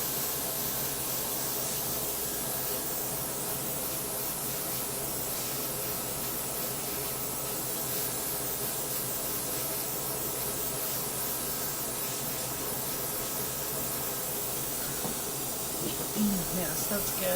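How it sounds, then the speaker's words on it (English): A small air compressor blows a steady, soft hiss of air across wet acrylic paint, an even continuous rush with no breaks, close but fairly quiet. "Now I'm going to take my little compressor again and just blow it out a tiny bit."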